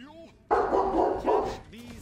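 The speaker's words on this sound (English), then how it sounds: "Why are my dogs barking?" Dogs barking during a session of the game Smite, a short run of loud, close barks lasting about a second, with faint tones before and after.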